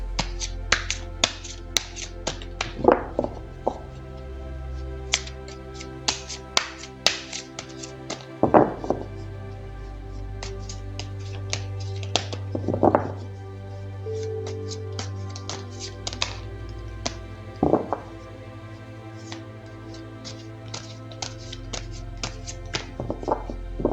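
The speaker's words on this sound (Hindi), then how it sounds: "तो चलिए कार्ड्स को पहले शफल कर लेते हैं।" A deck of tarot cards is shuffled by hand in a quiet room, making crisp snapping flicks and soft taps that come in scattered bursts, with a few louder thunks, close and with no talking.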